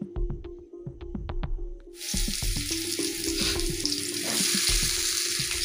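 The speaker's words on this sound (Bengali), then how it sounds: "এবার আমটা আমি কিন্তু তেলের মধ্যে দিয়ে হালকা ভেজে" Half-dried mango pieces go into hot oil for a light fry, bursting into a loud, dense sizzle partway through that holds steady, with a few soft stirring knocks and clicks before and under it.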